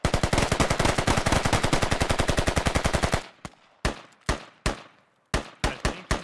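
Rapid automatic gunfire from the military shooter Squad, a long, loud sustained burst of evenly spaced shots followed by several separate, sharper single shots spread apart, with no talking.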